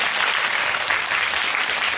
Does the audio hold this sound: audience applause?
yes